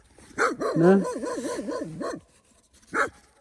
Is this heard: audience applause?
no